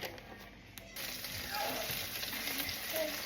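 Chicken pieces fry in oil in a pan, a soft crackling sizzle that swells slightly louder after the first second as a new batch goes in, fairly close and continuous.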